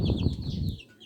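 Five small chicks on a small chicken farm peck at food and water, with faint high peeps and soft shuffling over a low rumble, all quiet and brief.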